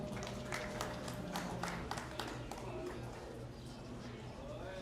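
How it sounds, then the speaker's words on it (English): A large arena crowd at a dairy goat show applauds the exhibitors with dense, steady clapping that continues for the whole stretch at an even level, with a few sharper claps standing out. "Let's give all those exhibitors a nice round of applause"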